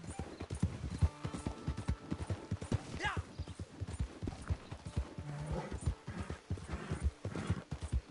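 Horse hooves clip-clop steadily in Red Dead Redemption online, a rhythmic trot of close, fairly loud hoofbeats with a brief whinny and some talk over the top.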